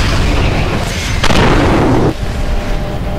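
Autocannon fire and an explosion in the Mechwarrior 4: Mercenaries game, a loud sustained roaring burst of about a second over constant dense rumble, with no talking.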